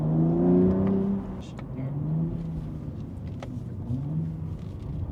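A BMW G8X M3 or M4 fitted with a DCE equal-length exhaust and hybrid pipes rumbles from outside the car, a low steady drone with revving swells, heard at a moderate distance amid traffic noise.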